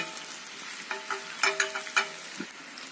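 Onions sautéing in coconut oil in a pan, a soft continuous sizzle broken by a few sharper stirring clicks and scrapes, heard alone.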